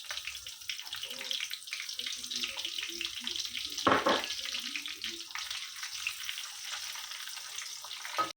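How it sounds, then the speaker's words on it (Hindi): Whole garam masala spices crackle and pop in hot oil in a pan, a continuous hissing sizzle with scattered small pops and one louder burst midway. "पूरा गरम मसाला डालेंगे, और गरम मसाले को अच्छे से तड़कने देंगे।"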